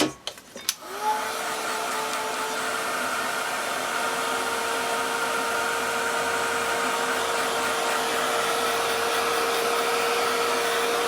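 A hair dryer switches on after a few clicks and blows steadily on an Earth Day art project, a loud, continuous whooshing hum with a steady whine, close up and alone.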